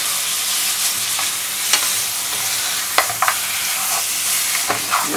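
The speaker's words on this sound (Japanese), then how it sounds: "骨の方から先に焼いていきます。" Bone-in pork for teriyaki sizzles steadily in a frying pan over low heat, with a few sharp crackles and utensil clicks over the constant hiss.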